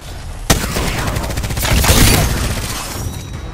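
Rapid turret gunfire in the video game Apex opens with a sharp loud shot, then rattles on as a dense, continuous automatic burst that swells and trails off.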